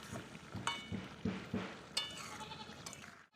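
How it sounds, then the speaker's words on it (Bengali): Soybean kofta curry gravy with slit green chillies is stirred in a pan just before serving. The spoon gives a few sharp scrapes and clinks over a soft simmer, with no talk. "এখন নামানোর আগে আগে চেরা কাঁচা লঙ্কাগুলো দিয়ে একটু নেড়ে চেড়ে নামিয়ে নেব।"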